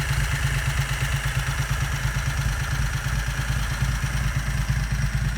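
A low race car engine, a 670 Predator Renault with a side-exit exhaust, idles steadily with a rumbling, pulsing throb and some clatter, loud and close, with no talking.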